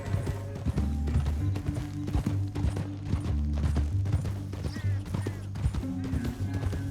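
Horse hooves clip-clop in a steady rhythm on a dirt trail in Red Dead Redemption 2, with creaking tack and mechanical rattling throughout and faint voices in the background.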